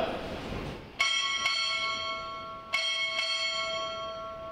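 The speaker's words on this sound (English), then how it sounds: "Time orderly, strike four bells." A ship's bell struck four times in two close pairs at a U.S. Navy recruit graduation ceremony, each strike clear and resonant with a long decaying tone.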